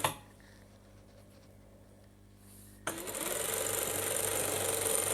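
A sewing machine starts up abruptly partway through and runs as a steady close whir while stitching a trouser seam, after a quiet opening with faint background hum.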